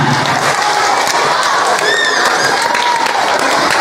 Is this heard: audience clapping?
yes